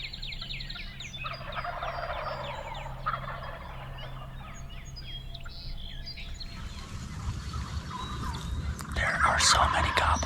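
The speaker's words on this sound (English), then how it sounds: "There are so many gobblers out here, it's unbelievable." Several wild turkeys gobble at dawn in a calm river bottom in Illinois, with repeated rattling gobbles from a moderate distance mixed with other bird chirps, and a person talks quietly over part of it.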